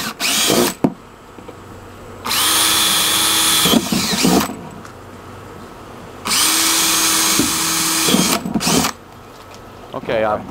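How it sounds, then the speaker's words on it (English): A power drill bores holes in garden planters outdoors: two long, loud whirring bursts of several seconds each with a rising motor pitch, separated by quieter gaps with handling clatter and brief speech. "Drilled some holes in some of her planters here"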